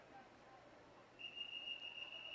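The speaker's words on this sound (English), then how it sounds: "Here's the first whistle." A single sustained start whistle at a girls' high school regional prelim swim meet, clear and shrill, blowing steadily for over a second above the echoing background murmur of an indoor pool.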